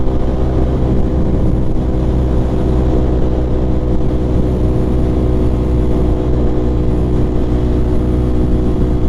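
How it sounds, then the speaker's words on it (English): A 2024 Aprilia RS660 sport bike fitted with a full race Akrapovic exhaust rumbles loud and close, a dense, steady engine drone with a strong low throb and no talk over it. "full race line Akrapovic that we installed just sounds so nice"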